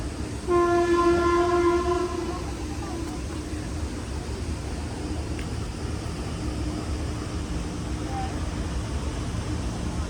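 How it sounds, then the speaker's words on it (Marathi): A train horn sounds briefly at the start over a steady rumbling roar, and the low rolling noise of the train continues throughout. "तर आता इकडे ट्रेन आली आहे"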